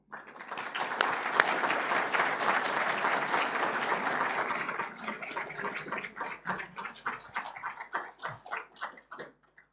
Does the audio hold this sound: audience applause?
yes